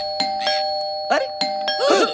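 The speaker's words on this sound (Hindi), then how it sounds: "कोई घंटी बजा रहा है और तुम दरवाजा नहीं खोल रहे हो?" A doorbell chimes in a Hindi comedy film scene, two-tone ding-dong rings repeated several times in quick succession, loud and close, with voices speaking between the rings.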